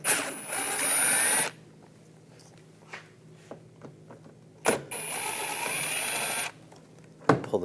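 A power tool spins out trim screws on a 2014-2018 GMC Sierra front bumper with a T15 socket, two loud whirring bursts separated by quiet clicks and clanks of handling.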